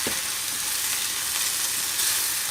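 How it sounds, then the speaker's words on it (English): Gluten-free flour being stirred into cottage pie filling in a hot pan, a dense, continuous close sizzle with soft stirring, no talking. "Now we're going to stir this in."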